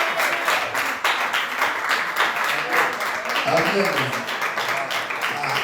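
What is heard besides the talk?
congregation applauding for the children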